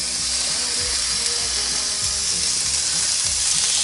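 Venison loins sear in a dry griddle pan with a steady, loud sizzling hiss and crackle that fills the whole stretch, with faint low clatter beneath and no talking.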